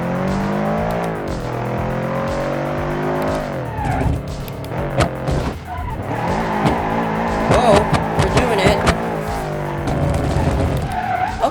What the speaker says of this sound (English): so you can kind of drift with this